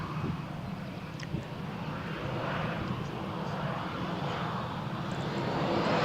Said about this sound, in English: Concentration for the EasyJet pilots. They are now preparing for takeoff, as you can see.